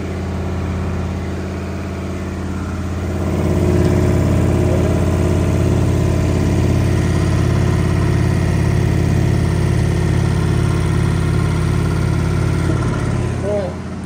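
A washing machine on its final spin at 1100 RPM, extra high speed, gives a loud continuous whirring drone that swells after a few seconds and then holds steady at full speed.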